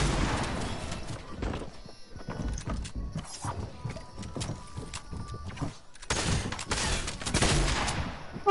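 Gunfire in the video game Fortnite: rapid, loud bursts of shots cracking in dense clusters, with short pauses between volleys and a heavy barrage near the end.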